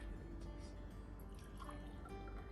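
Liquid, 50 millilitres, poured into a glass in a volcano science experiment, a steady close trickle and dribble running throughout at low level, with no talk over it.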